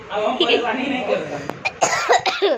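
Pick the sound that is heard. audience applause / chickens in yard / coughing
coughing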